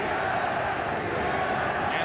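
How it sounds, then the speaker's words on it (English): A big boxing-arena crowd at the Pacquiao vs Marquez fight chants and cheers in a steady, dense roar that never lets up, filling the whole space with overlapping voices. "They go back and forth, chanting, cheering, challenging each other"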